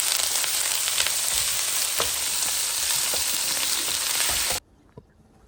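Thinly sliced onions frying in a pan for chicken tikka biryani, a dense loud sizzle with occasional stirring knocks that cuts off abruptly near the end into near silence.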